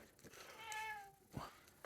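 A pet cat gives a single drawn-out meow close by, followed by faint rustling, in a quiet room.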